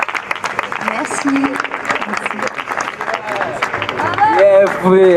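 Protest crowd at a European summit demonstration applauding guitarist Xavier, a dense steady clatter of clapping mixed with crowd noise and voices, growing louder toward the end with a few raised calls rising above it.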